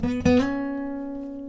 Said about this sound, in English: And the first parts of that lick should actually be palm muted as well.